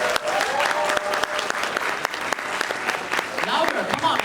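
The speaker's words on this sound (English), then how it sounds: "So please have a warm round of applause for Albert Cao, the localization producer of FGO." Audience at an Anime NYC convention panel applauds warmly, a dense wash of clapping with sharp individual claps standing out and faint voices underneath.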